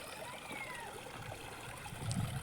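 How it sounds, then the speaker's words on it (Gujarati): Water flowing in a stream near a Khodiyar Mata temple at Chikhli: a soft, steady rushing and trickling, faint and even throughout. "એકદમ મસ્ત પાણી આવે છે"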